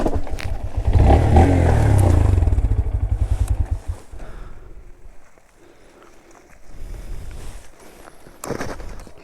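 A Honda Grom motorcycle rides nearby with a loud, rough engine drone that rises and then fades over the first few seconds. A quieter engine returns later with some scuffing sounds.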